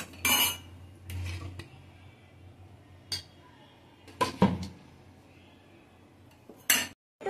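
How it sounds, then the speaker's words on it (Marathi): A metal lid set onto a pot of simmering tomato saar, giving a few sharp clinks and clanks separated by quiet stretches, close by and fairly loud. "मी आता याच्यावर झाकण ठेवते"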